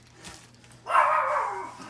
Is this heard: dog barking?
yes